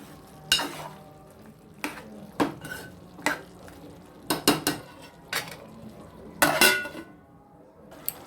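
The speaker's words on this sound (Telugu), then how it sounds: "టమాటా ముక్కలు వేసుకొని కలుపుకొని టమాటాన్ని మగ్గించుకోవాలి" Spoon scraping and clinking against a pan while tomato pieces are stirred into a chicken curry, with about a dozen sharp metallic knocks at irregular intervals over a quiet low sizzle; no talk.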